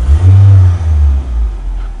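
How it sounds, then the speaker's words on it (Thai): A 2004 Toyota Camry engine gets a single throttle blip to switch from petrol to gas. The close, low rumble swells into one rev and then eases back toward idle, with no talking. "ผมจะทำการเปลี่ยนจากระบบน้ำมันเป็นแก๊สนะครับโดยการเบิ้ลคันเร่ง1ครั้ง"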